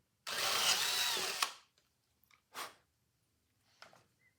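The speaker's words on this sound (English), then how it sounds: "take a drill with a 5/16 bit" A power drill with a 5/16 bit whirs loudly for about a second enlarging a hole in an Edison diamond disc record, followed by a couple of short, quieter bursts.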